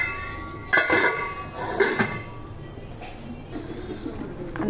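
A metal lid set down on a cooking pot of rice with paneer and cashews, two sharp clanks close together, then a softer clink, near and clear over a quiet kitchen background.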